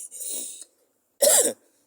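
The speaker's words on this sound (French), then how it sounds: "j'ai un peu la toux là" Two close, sharp coughs separated by a short pause, with no talking around them.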